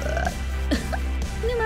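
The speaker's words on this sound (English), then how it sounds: "Oh god, she burped." A female Sims character in The Sims 4 gives a short burp over a light game music bed, heard once, close and clear.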